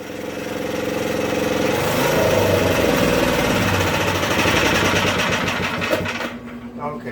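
A Craftsman rear-engine riding tractor, suspected of valve trouble and running lean, roars steadily at full throttle up close, a rough continuous engine drone that swells and then drops off near the end.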